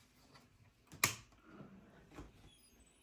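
An xTool F1 laser engraver is powered on at its rear switch: one sharp click, followed by a soft mechanical whir and faint settling noises in a quiet room.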